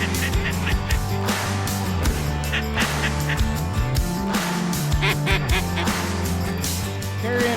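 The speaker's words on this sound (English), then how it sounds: "a pile of mallards right out of the gate" Mallard ducks quack loudly and repeatedly nearby during a rainy waterfowl hunt, a busy overlapping chorus with honking fowl calls mixed in.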